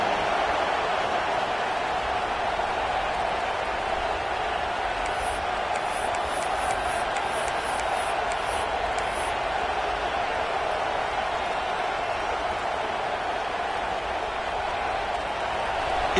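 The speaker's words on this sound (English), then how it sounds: "It's early, but this crowd is fired up. Listen to this noise here." A stadium crowd at a football game makes a steady, loud roar that holds for the whole stretch, with a run of shrill whistles partway through.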